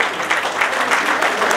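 Children clapping at a school award ceremony as an honoured student is called, a steady, dense patter of applause filling the room throughout.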